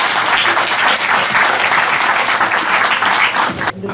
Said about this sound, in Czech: Ano, můžeme zatleskat.